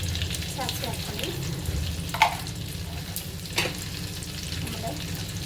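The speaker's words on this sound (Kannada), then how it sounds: "ಸಾಸಿವೆ ಹಾಕ್ಕೊಳ್ಳಿ." Mustard seeds splutter and crackle in hot oil in a pan, a dense, close sizzle broken by a couple of sharp pops, with no voices over it.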